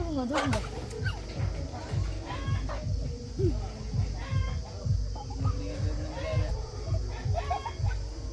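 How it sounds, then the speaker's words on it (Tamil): A chicken clucking in short repeated bursts at a Jaffna home, close and fairly loud, under people talking and calling out. "பாப்பா கோழியை பிடிங்க வீட்டை கொண்டு போவோம்"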